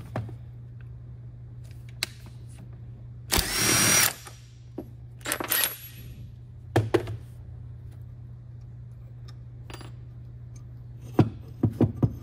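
A socket tool removes the fan and pulley from the alternator of a 3-litre Marcos GT, with a loud whirring burst of about a second, then shorter bursts and scattered metallic clicks over a steady low hum.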